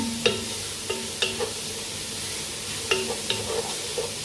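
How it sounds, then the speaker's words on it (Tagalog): Sliced onions brown in a dry pan for shrimp saluna, a soft steady sizzle broken by several scraping stirs of a utensil against the pan, close by with no talk. "Pag-brownin natin ang ating onion."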